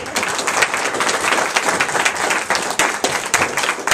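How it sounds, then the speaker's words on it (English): A town hall meeting crowd gives a short, lively round of applause, many hands clapping densely and evenly for a few seconds, fairly close and loud. "Okay, everybody, big round of applause."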